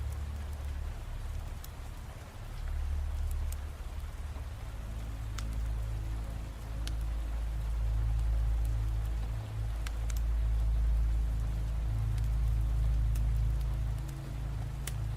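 Steady rain pours down at night near a dam, a continuous dense patter with a deep rumbling low layer. Occasional sharper drops ticking on surfaces stand out, and no voices are heard.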